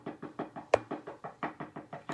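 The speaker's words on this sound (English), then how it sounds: "when you get a continuous knock like that" Continuous, rapid knocking on a house door, a steady series of about a dozen evenly spaced, muffled thuds with one sharper bang partway through.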